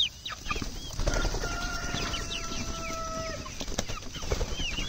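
Meat chickens kept for dinner cluck and flap their wings in a barnyard, with several bursts of wingbeats and clucks at close range, some drawn-out calls in between and no talk.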